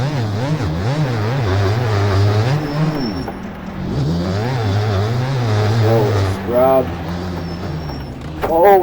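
A motocross bike engine in MX Bikes revs and drops over and over, a loud buzzing whine climbing and falling with the throttle, while someone talks over it.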